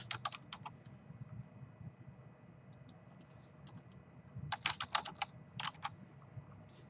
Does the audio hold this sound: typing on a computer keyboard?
yes